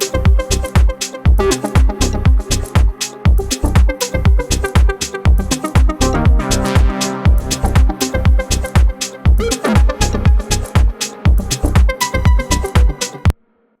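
A full music premix runs through the Magenta digital compressor plugin: a steady, punchy beat with strong regular low-end hits and dense mid and high layers. It is loud and continuous, with no talk, and ends abruptly.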